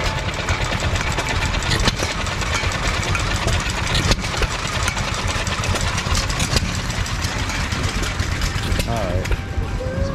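An old Fairbanks Morse engine with its original body runs at the 2022 Western Idaho Fair, a loud steady low chugging with rhythmic knocks, heard up close and partly under talk.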